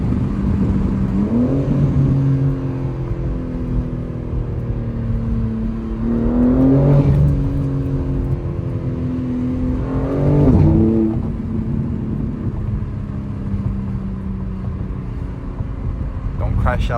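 A BMW G80 M3 cruising through a city at night, its engine droning low and steady from inside the car, with a few rising revs that swell and drop back, loud and close throughout.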